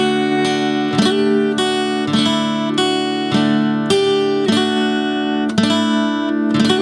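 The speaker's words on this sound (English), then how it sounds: "you put the entire thing, parts 1 and 2 together now, and it'll sound like this real slow." Acoustic guitar plays a song slowly, strummed chords with distinct down- and upstrokes in an even rhythm, close and clear with no talking.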